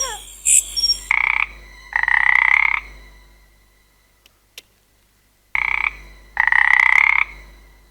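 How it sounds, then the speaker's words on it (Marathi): A frog croaks loudly and close by at night near a farm field, in several harsh, buzzing bursts separated by silent gaps, with a few faint clicks between them. "बेडकाचा आवाज आहे तो."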